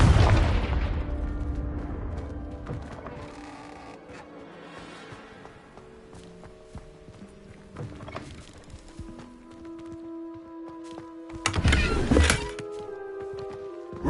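Confringo fire spell blasts in Hogwarts Legacy on PS5: a loud burst at the start decays into ringing game tones, and a second sharp blast flares near the end, with no talk over it.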